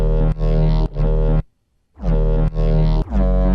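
A raw, unprocessed synth bass preset played straight from the Serum soft synth, heard as loud, harmonically dense sustained notes in a rhythmic pattern broken by a short gap of silence.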